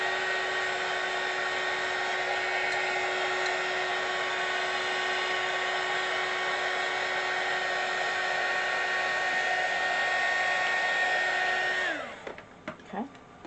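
A hair dryer runs loud and steady for about twelve seconds while heating soy candle wax in a home kitchen, then switches off and winds down, leaving a few faint handling noises.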